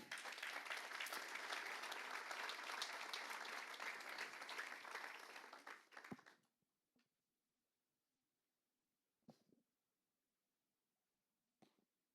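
A church congregation applauds the Lord in dense, sustained clapping for about six seconds, then it cuts off, leaving near-silence broken by a few faint isolated sounds.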